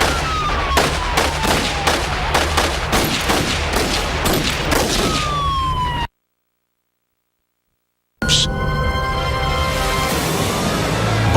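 Rapid volleys of gunshots ring out in a police shootout reenactment, sharp repeated cracks for about six seconds, then a sudden silence before more loud shots resume.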